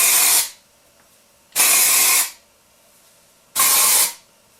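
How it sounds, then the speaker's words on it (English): Couleur dry shampoo sprayed into hair roots in three separate bursts, each a loud, close, airy hiss lasting about half a second to a second with short pauses between, and no talking. "I'm going to spray with Couleur Dry Shampoo just into the roots."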